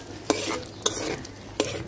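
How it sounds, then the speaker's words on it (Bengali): Bay leaves and dried red chillies drop into hot oil in a pan and fry with a soft steady sizzle, broken by three sharp stirring clinks, close by and with no voice. "তেল গরম হয়ে গেছে, দিয়ে দিব তেজপাতা,"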